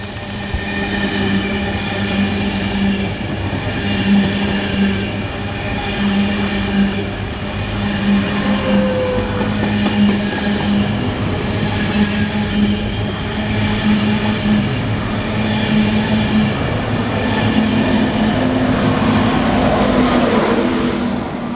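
A railway track maintenance machine rolls past at a station, a loud continuous rumble with rhythmic wheel clatter and engine drone that swells as it goes by.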